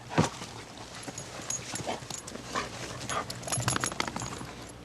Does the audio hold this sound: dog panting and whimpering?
yes